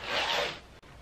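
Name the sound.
shuffling Archangel Oracle cards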